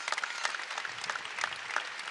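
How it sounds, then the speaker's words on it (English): Basketball crowd at the Curb Event Center claps for an injured player being attended to during a Belmont vs Oral Roberts game, a moderately loud, sustained round of applause with scattered sharper claps standing out. "A huge round of applause here from the Curb Event Center crowd"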